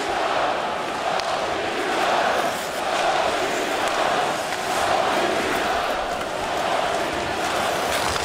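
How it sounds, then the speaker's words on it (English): Hockey crowd at a Toronto arena during a Bruins–Maple Leafs game, a broad steady roar of many voices in a big hall, rising and falling in rhythmic swells like a sustained chant throughout. "The chant from the crowd."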